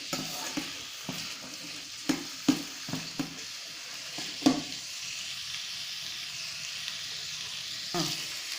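Pirandai (veld grape) sautés in oil in a pan, a continuous close sizzle punctuated by repeated sharp stirring scrapes and knocks of the spatula, with no talking.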